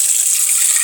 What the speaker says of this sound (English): We're going to add some cold water on it.